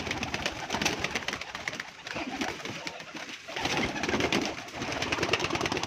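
Pigeons at a breeder's loft coo and call steadily and close by, overlapping murmurs filling the whole stretch with no talking.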